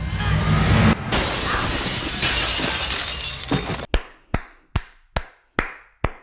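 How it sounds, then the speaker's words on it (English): A glass table shattering as a person crashes through it, a loud sustained crash of breaking glass followed by a series of sharp, evenly spaced impacts that ring out and decay. "before finally launching herself through a glass table"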